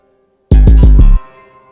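A programmed hi-hat triplet in FL Studio, three quick bright ticks in close succession over a heavy low thump, loud and short, then a brief fading tail.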